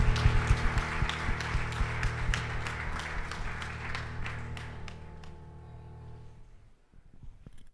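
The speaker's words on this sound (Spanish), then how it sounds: "aplauso para él, sí." A church congregation in Dénia claps for someone during a Sunday celebration, a fairly close scattering of sharp claps that gradually thins out and fades to quiet by the end.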